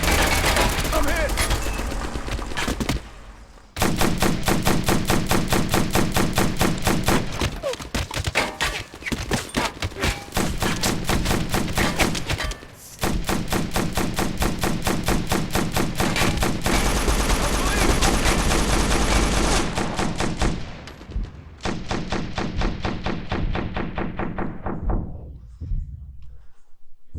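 Suppressive fire rattles through a battle in Operation Flashpoint: Dragon Rising, loud sustained bursts of automatic gunfire with brief gaps before the shooting fades out at the end, while voices shout over the din.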